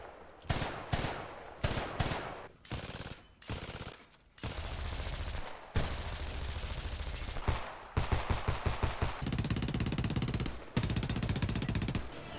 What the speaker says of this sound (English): Homefront also does feature some of the best weapon sounds in any game, and you would be hard-pressed to find anything that sounds this good.